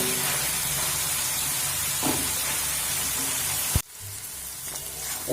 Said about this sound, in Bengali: তো মিডিয়াম ফ্লেম করেই কিন্তু সবজিটা ভেজে নিতে হবে